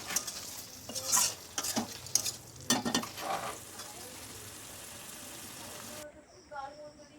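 Pointed gourd and potato being stirred with spices in a pan, with scraping and clinking of the spoon against the pan over a steady sizzle, close and moderately loud, then quieter near the end.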